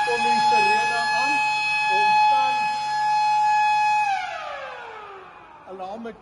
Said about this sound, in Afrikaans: dan kom die sirene aan,